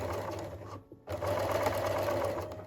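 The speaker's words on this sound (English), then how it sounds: "sew 1cm seam allowance" A sewing machine runs steadily along a trouser pocket seam, a close, even whirr that pauses for a moment and then carries on.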